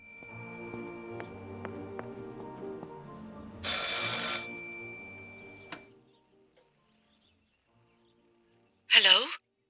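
A telephone rings in the game Martha Is Dead, a steady electronic ringing over a low ambient musical drone that cuts off, followed by near silence and then a short bright burst.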